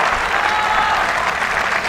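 A crowd at the Mumbai Open WTA 125 tennis tournament applauds a serve, steady loud clapping sustained for the whole moment.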